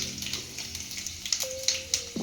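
Bay leaves, dried chillies, cumin, garam masala, cardamom and cloves sizzle in hot oil left from frying potatoes: a close, steady crackling hiss with light clinks and a brief tone partway through.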